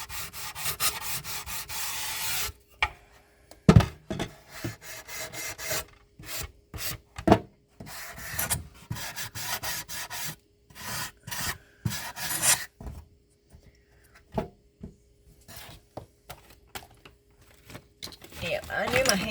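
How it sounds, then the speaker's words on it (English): Rough scraping and rubbing strokes, sanding in uneven bursts with pauses, close up, with a voice speaking intermittently. "I am sort of sanding the rough edges down"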